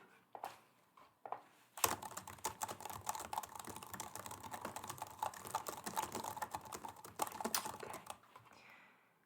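Quick, continuous clatter of fingers typing on a computer keyboard, close and crisp, with a few isolated taps at first before a sustained run of keystrokes that trails off at the end.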